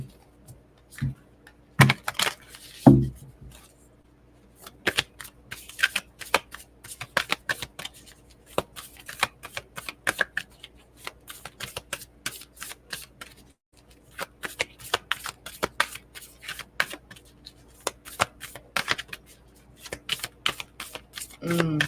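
Playing cards shuffled by hand in a series of quick riffling and snapping bursts, close and fairly quiet, with short pauses between shuffles.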